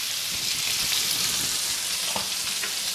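Potatoes frying in a pan for aloo sabji, a steady close hiss and crackle of oil with light stirring scrapes, continuous throughout.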